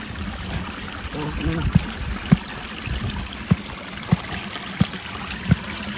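Water trickles steadily into a freshly dug channel used for catching fish, with a soft continuous flow and a few sharp clicks at regular gaps. Faint voices can be heard in the background.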